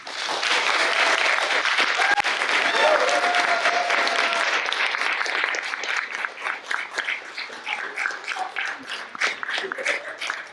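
An audience at a teacher talk applauds a guest speaker, a dense loud burst of clapping that holds for several seconds, then thins into scattered claps with murmured voices toward the end.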